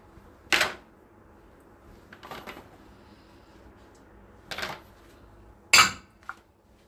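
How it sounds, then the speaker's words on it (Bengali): Bowls set into the rack of a Sharp dishwasher, four separate clattering knocks of dishware spaced a second or more apart, close, with quiet pauses between. "বাটিগুলোকে রেখে দিচ্ছি"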